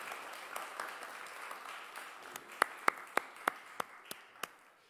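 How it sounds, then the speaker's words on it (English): A small group claps during a Sunday worship service, the sparse hand claps building into a short run of sharp, separate claps that fade out after a few seconds. "And you get a round of applause."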